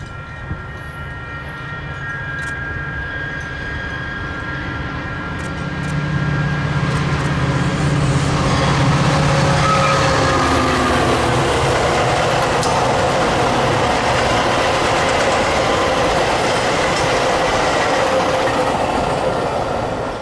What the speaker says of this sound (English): Being an outbound train, the decorated locomotive will be leading.